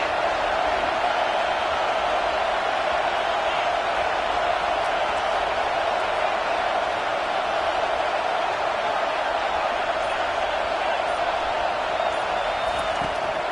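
Stadium crowd noise in a college football video game, Ole Miss Rebels versus LSU Tigers, a steady, dense roar of cheering that holds at one level throughout without letting up.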